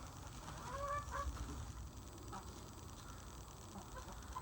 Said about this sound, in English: sorry if you can hear chickens